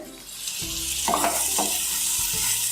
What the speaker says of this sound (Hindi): अब हम इसको अच्छे से भून लेंगे।